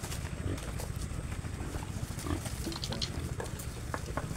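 Piglets scurry into a pen made of split bamboo on a farm, with soft grunting and scuffling hoof patter over a steady, noisy outdoor background.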